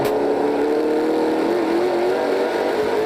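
Stock car engine heard onboard at Flamboro Speedway during the 2021 NASCAR Pinty's Series Motomaster 125, a loud, close, sustained drone whose pitch climbs steadily, with no talk.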